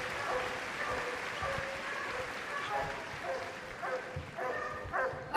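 West Midlands Police dogs bark at a Crufts display arena, repeated sharp barks that come in bursts toward the end over a murmuring crowd and background talk.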